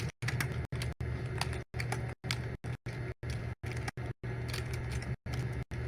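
Rapid bursts of keystrokes on a computer keyboard, entering a switch port security command, with short pauses between clusters of clicks, close and clear with no talk.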